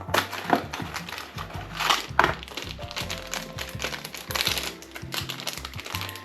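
Chocolate-coated pastries, Pocky sticks, banana snacks and pretzels tumble into a snack bag at a busy retro convention, with loud crinkling, rustling and crunching in irregular bursts over background crowd noise and music.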